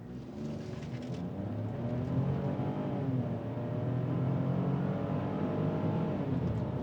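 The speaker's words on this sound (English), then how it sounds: "from a standing start, let's feel the power. Foot to the floor." A Ford Bronco Sport Freewheeling Edition in sport mode accelerates at full throttle from a standing start, its engine drone steadily rising in pitch and loudness, heard close from inside the cabin.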